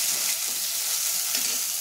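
Tomatoes hitting golden fried onions in a hot pan, a loud continuous hiss of sizzling oil, close and steady throughout with no talking.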